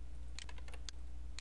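Keystrokes on a computer keyboard during a Ctrl V paste, about half a dozen quick, light clicks in short irregular bursts, close and quiet, with no voices.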